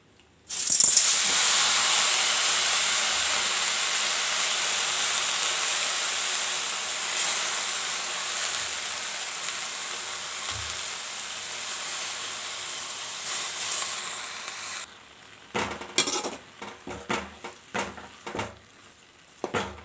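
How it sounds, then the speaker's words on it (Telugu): Washed tamarind leaves fry in a pan, giving a loud, steady sizzling hiss that gradually fades, followed by a few scattered clatters and stirring knocks near the end. "అదే ప్యాన్లో మనం కడిగి పెట్టుకున్న చింతాకును వేసుకొని వేయించుకోవాలి"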